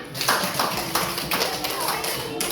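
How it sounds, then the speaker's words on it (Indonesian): Classroom students in Banda Aceh clapping hands together, a few rhythmic bursts of claps close by with children's voices and chatter mixed in. "Oke, tepuk tangan."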